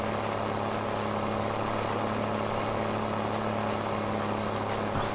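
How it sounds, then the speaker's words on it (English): A tractor engine in Farming Simulator 22 drones steadily under heavy load while pulling, a constant low hum with no speech over it. "Come on, tractor. You've got more than enough power to pull this."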